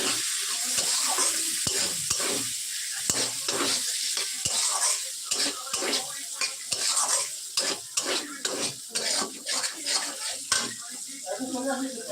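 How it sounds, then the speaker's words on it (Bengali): Chopped capsicum is stirred in a pan for a vegetarian soyabean curry, with a steady frying sizzle under a busy run of spatula scrapes and taps. "সেগুলো দিয়ে দেবো দিয়ে ভালো করে নাড়াচাড়া করে নেবো"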